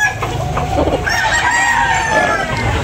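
Several roosters at a fighting cock sale in Tabunok, Talisay crow and cluck together, loud and close, their overlapping calls filling the whole stretch above a noisy crowd background.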